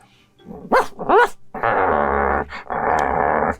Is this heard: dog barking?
yes